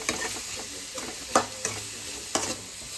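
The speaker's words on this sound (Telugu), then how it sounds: "మళ్ళీ మిక్స్ చేసుకుంటున్నాం." Spiced vegetable fried rice, with cumin and coriander powder, is stirred and fried in a pan, giving a steady close sizzle broken by several sharp scraping clinks of the spoon, with no talking.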